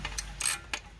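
A ratchet wrench working loose a spark plug on a 1987 Toyota 4Runner with the 22RE engine, three short bursts of close metallic clicking in quick succession.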